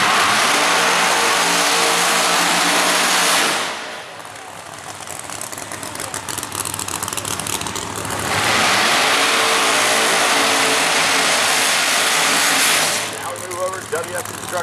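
Pro Line drag racing cars at Maryland International Raceway roar loudly at full throttle, with two long, intense blasts of engine noise separated by quieter rumbling and idling, and an announcer talking between runs.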